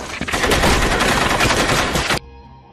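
A loud, sustained burst of rapid gunfire in a film crackles for about two seconds, then cuts off abruptly into near silence.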